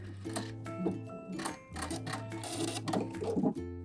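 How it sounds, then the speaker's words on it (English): A domestic sewing machine back stitching runs in short bursts of close mechanical whirring, with pauses and clicking between the runs. "And now I can go ahead and finish sewing it down. Just back stitch and cut."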